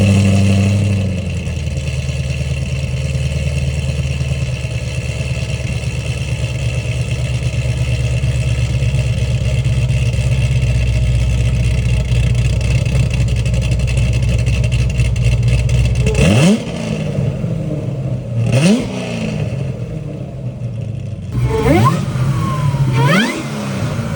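A Corvette ZR1 with a Corsa catback exhaust rumbles loudly at a steady high idle, then gives several sharp revs that rise and fall near the end.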